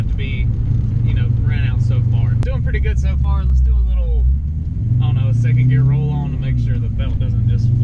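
A car with a pushrod 302 engine rumbles through a second gear roll-on, a deep, steady drone building in pitch underneath someone talking throughout.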